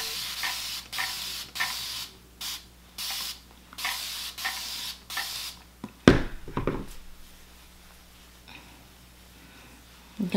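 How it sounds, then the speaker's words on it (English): Several quick hissing bursts from a pump spray bottle spraying hair, close up, in a rhythmic series, followed by handling noise and quiet. "I'm gonna spray."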